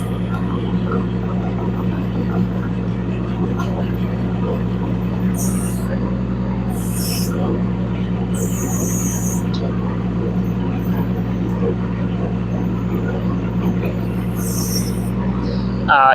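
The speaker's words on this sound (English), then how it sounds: "Now we'll show you how this machine drives. R13 is one of the quickest mini excavators that we tried." Rippa R13 mini excavator creeping along in its slow turtle drive mode, a steady low diesel drone with constant hum and intermittent high hydraulic whine bursts, continuous and fairly loud without pause.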